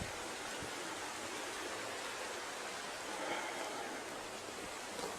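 Water flows steadily through a canyon at night, a constant dense broadband rush with no breaks, moderately loud and even throughout.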